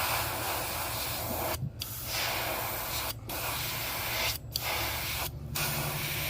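Second coat of spray paint going onto a crappie-pattern fishing lure: a close, steady hiss broken by four short pauses between bursts.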